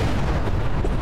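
Cruise missiles explode in the space shooter Everspace 2, a brief, loud, dense barrage of rumbling blasts that fills the whole second without any talking.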